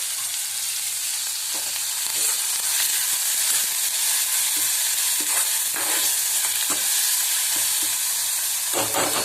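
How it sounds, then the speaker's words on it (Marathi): Vegetables and onion being stir-fried in oil for fried rice give off a loud continuous sizzle and hiss, with scattered soft clicks of stirring throughout. "भाज्या पण छान शिजल्या आहेत. छान तेलावरती परतून घेतल्या."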